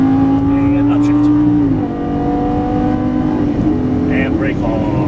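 Lamborghini Gallardo LP550-2 engine on a race track, loud and close, holding a steady high note that drops sharply with an upshift, then climbs again.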